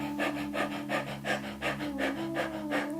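Rhythmic panting as a breathing exercise imitating a tired dog, about eight quick, even breaths close to the mic with a steady low hum underneath and no talking.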